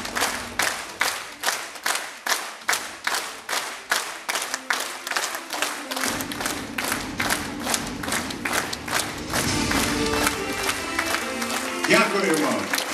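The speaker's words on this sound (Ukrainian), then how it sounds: "За всю історію цього залу, мабуть, триваличих оплесків тут і не було." Long sustained applause from a crowd in a hall honoring war heroes, starting as rhythmic unified clapping then swelling into dense continuous clapping with cheers and shouts near the end.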